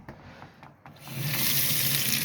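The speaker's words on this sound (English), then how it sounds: "hot water coming out of the sink" Hot water gushes from a tap into a caravan sink, starting after a second of quieter clatter and then running steadily and loud, close by.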